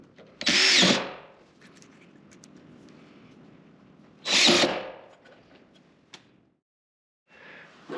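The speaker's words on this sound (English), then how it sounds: "I'll just screw that shim in place with these panhead screws" A power drill drives panhead screws into a shim while a garage door chain hoist is installed: two short, loud whirring bursts several seconds apart, with quieter clicks and handling noise between them.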